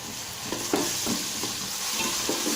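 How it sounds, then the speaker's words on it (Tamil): Green chillies and ginger garlic paste sauté with onions in a pan for chicken biryani, giving a steady sizzle and fry with the soft scrape of stirring, close and continuous with no talk. "இந்த அளவுக்கு வதங்கினதுக்கப்புறம் 2 பச்சை மிளகாய், இஞ்சி பூண்டு பேஸ்ட் போட்டுக்கலாம்."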